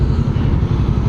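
A 2021 Kawasaki Vulcan S motorcycle engine runs steadily nearby, a loud low pulsing idle with an even throbbing rhythm and no voices.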